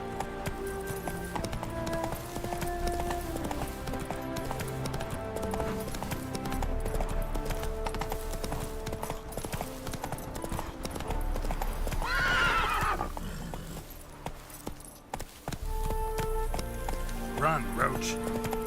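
Roach, a horse in The Witcher 3, gallops with rapid rhythmic hoofbeats and lets out a clear whinny midway, while someone speaks over the running.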